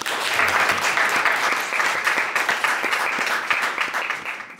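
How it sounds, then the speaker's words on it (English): A panel-event audience gives a warm round of applause, loud and dense clapping from many hands filling the room steadily before tapering slightly at the end. "A big round of applause."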